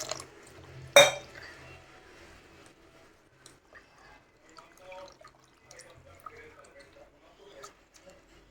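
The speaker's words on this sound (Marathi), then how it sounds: "आता आपण रवा धुवून घेऊयात आणि भिजवून ठेवूयात." Semolina being washed in water for idli, with soft splashes, drips and the clink of a bowl or utensil, quiet and intermittent under a voice talking.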